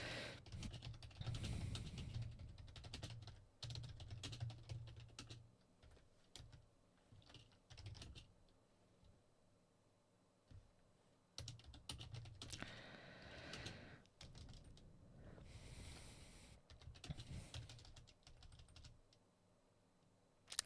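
Typing on a computer keyboard in bursts of rapid clicking keystrokes, separated by brief quiet gaps, close and fairly soft, with no voices.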